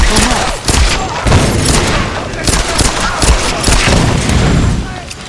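Explosions and gunfire in the video game Tomb Raider Definitive Edition, a dense continuous barrage of booms and shots with a player talking over it.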